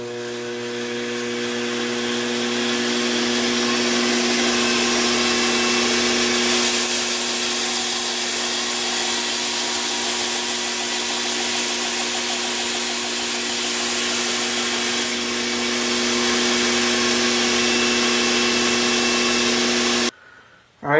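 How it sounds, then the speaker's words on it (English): A belt grinder running a 400 grit belt polishes the edge of a 5160 steel blade, giving a steady, loud, close abrasive whir with a rubbing hiss that holds for about twenty seconds before cutting off. "Now I'm switching to a 400 grit belt and starting to polish the edge of the cutting edge."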